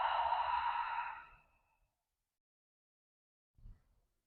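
A deep, slow exhale during a guided yoga breathing session, breathy and close, fading out over about a second and a half, followed by silence and a soft brief puff of breath.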